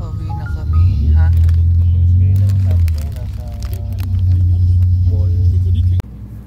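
Car traffic on a Bangkok road rumbles loudly and steadily from close by, with engine drone swelling and easing, while people talk over it.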